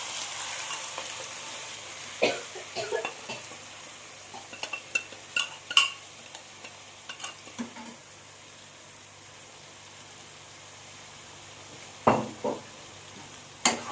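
Spice-marinated chicken pieces fry in hot ghee in a kadai, a low, quiet sizzle broken by scattered sharp clinks and scrapes as the meat is dropped in and stirred.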